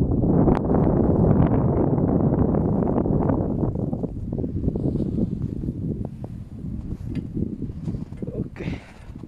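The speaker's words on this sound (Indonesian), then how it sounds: "snow turun sini angin kuat betul" Strong wind blows steadily during snowfall, a loud roaring rush of microphone buffeting that eases slightly over time, with someone speaking over it.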